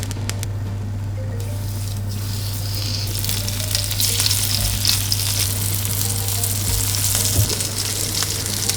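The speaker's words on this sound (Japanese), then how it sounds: "改めて油を引いて豆腐を焼いていきましょう。" Tofu fries in oil in a pan, giving a loud, steady, close sizzle that grows denser partway through, with faint spattering and a low steady hum underneath and no voices.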